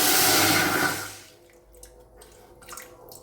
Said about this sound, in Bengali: এবারে যে জল গরম করে রেখেছিলাম, ওখান থেকে আরেকটুখানি জল দিয়ে দিচ্ছি।